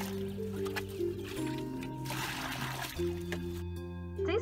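Rainwater is bailed by hand out of a nearly full dinghy, giving soft splashes and trickles under a steady engine-like hum with tonal drones, all fairly quiet and close.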